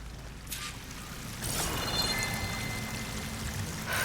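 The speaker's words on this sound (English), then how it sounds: "That waterfall must be coming from somewhere." A waterfall rushes steadily in the video game Horizon Forbidden West, a broad continuous roar of falling water that swells louder partway through and keeps going without speech.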